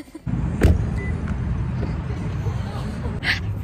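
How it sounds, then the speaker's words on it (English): A car engine left idling makes a steady low rumble throughout, with a brief knock near the start and faint rustling over it. "I forgot to turn my car off."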